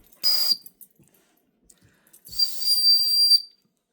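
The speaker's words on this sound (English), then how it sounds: "So, as you can tell, there's a whistle." Survival whistle from an unboxed kit blown twice, a short shrill blast then a longer one of about a second, loud and close with silence between.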